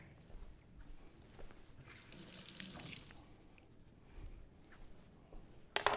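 A kitchen knife blade is rinsed under a running tap after sharpening, with a burst of faucet water splashing into a sink for about a second, then quieter dripping and handling, fairly faint and without speech.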